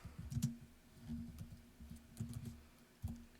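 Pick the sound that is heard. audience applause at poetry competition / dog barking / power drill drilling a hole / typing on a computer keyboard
typing on a computer keyboard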